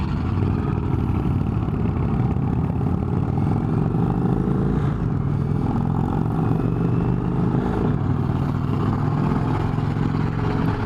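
An Indian Chieftain motorcycle is ridden along, its engine giving a steady, close rumbling drone with slight shifts in revs and a constant rush of wind.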